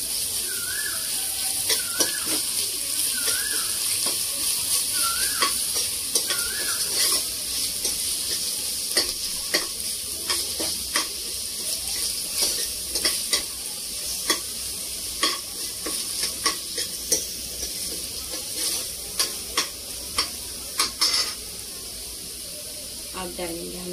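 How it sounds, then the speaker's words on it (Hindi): Ginger garlic paste sizzles in a hot pan while being stirred, a continuous frying hiss broken by frequent scraping and clinking of a spoon against the pan, with occasional faint talk nearby. "अदरक लहसुन का पेस्ट, इसे भी थोड़ा सा फ्राई करेंगे।"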